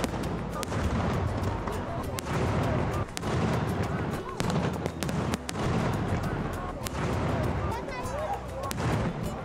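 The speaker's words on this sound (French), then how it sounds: "les feux d'artifice prennent le relais" Repeated sharp bangs and crackling bursts of fireworks at irregular intervals, over a dense background of crowd noise and voices at a festival in Ibiza.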